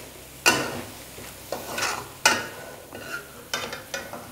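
Onions frying in a pan for Bihari-style chicken masala, with a steady low sizzle broken by several sharp, close scraping strokes of a spoon stirring at irregular intervals; no one talks.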